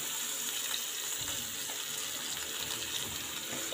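Water splashing and running steadily onto a floor at home, a continuous hissing wash of moderate loudness with no voices.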